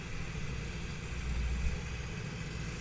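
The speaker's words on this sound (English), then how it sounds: "My bike's idling super high." A 40-year-old motorcycle's small engine idles fast and steady, a constant low rumble with a slight swell midway, no voices.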